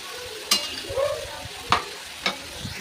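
Bottle gourd curry cooks in a pan, a low continuous sizzle broken by several sharp spatula scrapes and knocks at uneven intervals.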